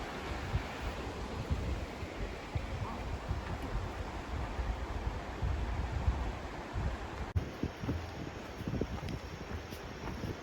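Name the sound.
creek water running high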